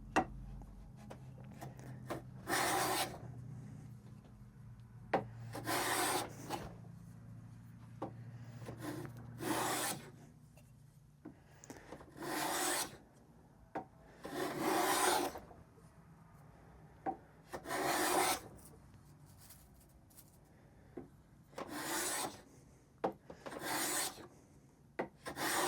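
A restored Stanley No. 9 1/2 block plane shaves a wood surface in about a dozen separate rasping strokes, each a short, close swish broken by quiet pauses.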